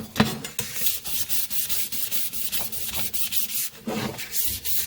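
A 1966 GMC headlight bezel gets sanded by hand, with steady back-and-forth rasping strokes in an even rhythm, close and fairly loud with no talk.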